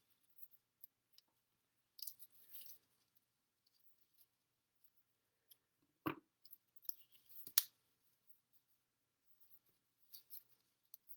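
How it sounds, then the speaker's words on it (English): Scissors snip through a small craft piece of cardstock during paper crafting, giving a few close, quiet cuts and clicks spread across a mostly silent stretch, with no talking. "And then I'm going to cut it down."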